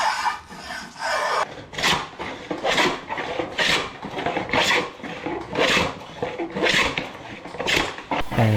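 A spokeshave shaves a wooden Greenland paddle in steady, rhythmic strokes, each a rasping scrape repeated about once a second, close and clear with no talk.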